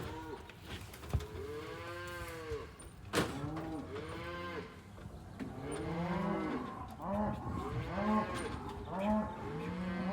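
Several cows moo repeatedly, loud and close, as they are moved off winter pasture toward a working corral, with overlapping calls of varied pitch and a faint mechanical hum underneath.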